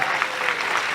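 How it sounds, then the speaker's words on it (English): Fans at PopCon Indy, a pop culture convention, applaud a panel of experts: a brief, loud, dense wash of clapping from a close crowd. "Give them a round of applause."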